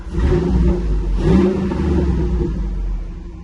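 A Gen1 2012 Ford Raptor pickup, already warmed up and running on E85 flex-fuel, revs its engine in a loud, steady rumble that swells briefly near the middle and holds close and strong throughout.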